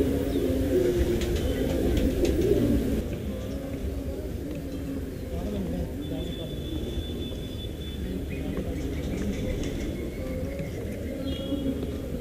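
Pigeons coo in a racing pigeon loft, soft low cooing repeating beneath people talking nearby, with a few faint higher calls.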